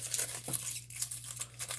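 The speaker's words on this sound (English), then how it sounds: "this pack is opening up a little weird" Foil wrapper of a WWE trading card pack being torn and crinkled open by hand, close rustling with sharp tearing bursts, heard alone.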